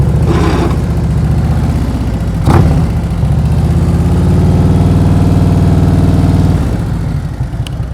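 Motorcycle engine at low speed through a slow leaning turn, a loud close throb with a steady rumble that briefly swells, then eases near the end.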